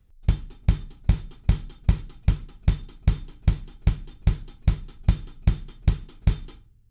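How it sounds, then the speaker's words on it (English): A steady drum beat from a song's verse, kick drum thumps with crisp hi-hat ticks, about two hits per second, dry and close with no other instruments. "we're just playing kick drums and hi-hats for starters."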